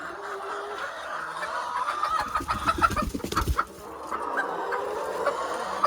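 Laying hens of a specific breed cluck in a farmyard, a close run of rapid, uneven clucks that builds to a busy burst in the middle and then eases back to a softer murmur.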